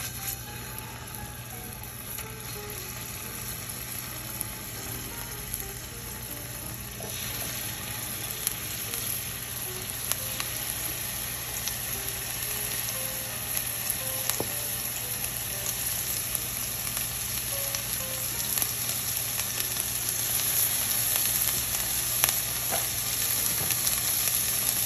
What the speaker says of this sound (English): Okay, so let's go sear the other side.